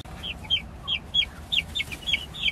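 Lavender Orpington chicks cheep in a rapid series of high, clear peeps, close by and steady over a low background hum.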